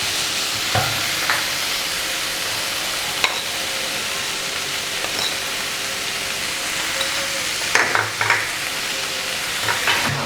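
Tomato and onion frying in a pan while being stirred, with a steady sizzle and hiss all the way through and occasional scraping stirs of the spoon close by.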